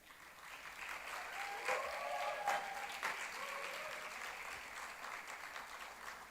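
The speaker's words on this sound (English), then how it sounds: "all of you are so connected that you're clapping out of no reason" An audience at a youth summit in Varanasi applauds: a continuous, even patter of many hands clapping at a moderate distance throughout, without distinct voices over it.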